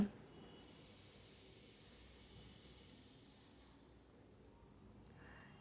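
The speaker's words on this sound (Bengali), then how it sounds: "এখন আমি ম্যারিনেট করে রাখা চিকেনটা এর মধ্যে দিয়ে দিলাম" Marinated chicken dropped into hot mustard oil in a pan, an even, steady sizzling hiss that runs for several seconds and then fades.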